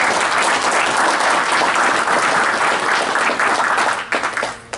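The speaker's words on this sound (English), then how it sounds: "give him another round of applause." An audience at a powerwash trade store show in Orlando breaks into loud, sustained applause that fills the room, then thins out and fades near the end.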